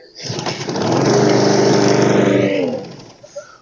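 A push lawnmower engine catches on one pull after a flooded carburetor, quickly rising to a loud, steady running drone close by that holds for a couple of seconds before easing off.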